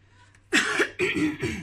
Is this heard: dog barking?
no